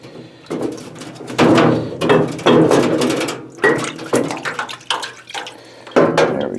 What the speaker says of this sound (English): let's get this over in the parts washer